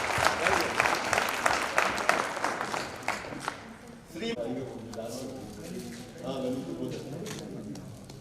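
Audience at a Corona warriors honour ceremony breaking into loud, dense applause that fades out after a few seconds, followed by someone speaking over a microphone in a hall.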